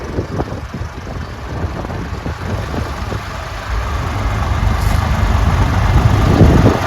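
A 1962 Fordson Super Dexter tractor's diesel engine running at a steam engine rally, a steady low chugging rumble that grows slightly louder toward the end, with wind buffeting the microphone.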